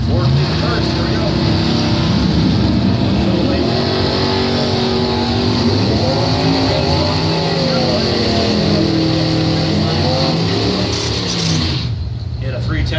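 A big-block 555 Chevrolet Camaro races a Ford in a drag race final, with loud engines droning and rising in pitch as they pull away, under continuous announcer commentary.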